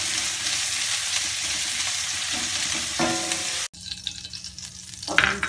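Ginger garlic paste frying in a pan over medium flame makes a close, steady sizzle. The sound breaks off abruptly, then a quieter crackle follows with a few stirring clatters.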